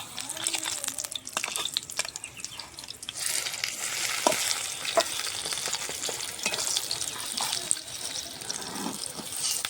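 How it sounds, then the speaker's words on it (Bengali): Pumpkin-leaf paturi parcels frying in hot mustard oil, a steady broad sizzle with crackling spits and occasional clinks of a utensil, fairly close and continuous throughout with no talk. "এক এক করে পাতুরিগুলো ভেজে নেব"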